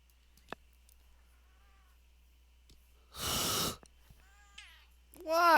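A house cat meows softly a few times between long quiet stretches, with a brief loud burst of noise midway and a stronger, drawn-out meow near the end.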